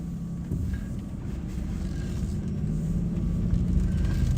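A 1993 Jaguar XJS coupe with the 6.0 V12 cruises along, its engine a smooth, steady low hum heard from inside the cabin, rising slightly and mixed with road and wind rush.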